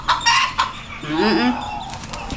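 Rooster kept as a pet, raised from a chick, gives a few low guttural clucks, close by, with rustling and short bursts of noise around it.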